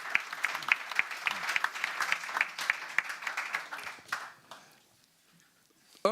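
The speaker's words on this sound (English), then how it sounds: "Maybe a quick applause that you could come all the way from Seattle to us." An audience at a healthcare technology talk gives a brisk round of applause, dense rapid clapping for about four seconds that thins out and fades to near silence before a sharp sound at the end.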